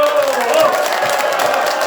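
A Buddhist temple congregation claps together at a memorial and ancestral tablet enshrinement service in Gimhae, a dense, steady patter of many hands filling the hall for about two seconds.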